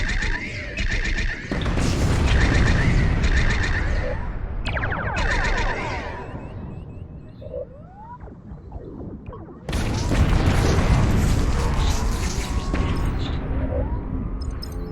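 Photon torpedo explosions erupt in the starship game Star Trek Bridge Crew as loud rumbling booms and crashes. Dense layered bursts are followed by a lull, then another heavy blast that rolls on under busy game noise.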